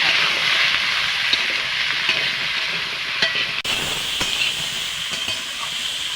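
Winter vegetable curry fries in a pan with salt and turmeric, giving a steady close hiss with faint stirring scrapes throughout, without a pause.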